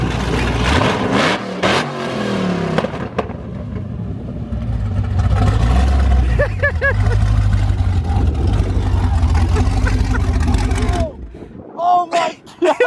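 The Freedom Rocket drag race car makes a fast pass. A loud engine roars and revs for a long, sustained stretch, then fades away, with voices heard over it.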